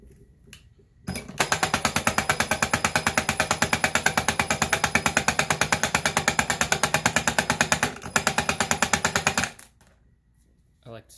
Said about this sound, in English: this button here, you kind of just hold it down until it winds itself